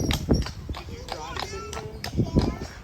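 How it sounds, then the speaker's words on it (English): Horse hooves clip-clop along at a steady walking pace amid busy outdoor crowd chatter and background noise at Disney's Port Orleans Riverside resort. "Here's another horse coming by."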